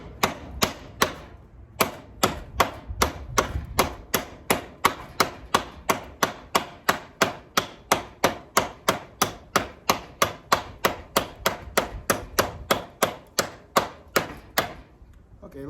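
Wartech survival knife chopping in a steady, even rhythm of about forty sharp, close strikes, each a crisp thwack with little pause between blows.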